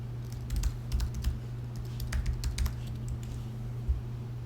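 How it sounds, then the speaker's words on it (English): A password typed on a computer keyboard: short bursts of quick, light key clicks separated by pauses, heard close over a constant low electrical hum, with no one speaking. "And again, type in your password."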